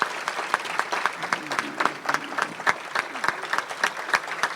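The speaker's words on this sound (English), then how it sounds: "So I want to give a big round of applause to Pat Jenkins." An audience applauds Pat Jenkins at an award event, a steady patter of many hands clapping with individual sharp claps standing out, close and sustained, with faint voices underneath.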